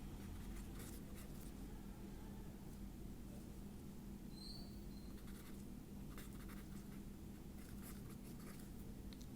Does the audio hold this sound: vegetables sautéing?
no